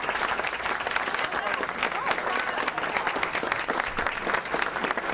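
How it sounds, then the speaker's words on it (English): Diners at a library associates awards dinner clap in warm, sustained applause that fills the room evenly for about five seconds. The clapping sounds fairly distant and soft, and a voice speaks over it. "Give her applause."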